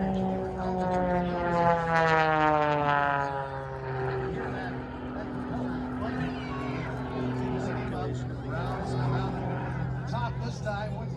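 Aerobatic propeller airplane diving at an air show over Loveland Airport in Colorado, its engine drone climbing steadily in pitch as airspeed builds, loud and continuous over outdoor crowd ambience.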